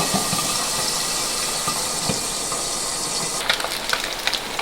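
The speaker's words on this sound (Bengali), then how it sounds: "ওই তেলের মধ্যেই আমি এখন ট্যাংরা মাছগুলোকে ভেজে ফেলব।" Tangra fish frying in oil left over from frying aubergine, a steady dense sizzle and hiss running throughout, with a few sharper crackles and pops near the end, no talking.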